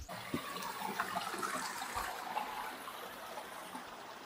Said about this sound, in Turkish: Normalde şu aşağıda gördüğümüz dere temiz akıyordu ama yukarıda bir çalışma var.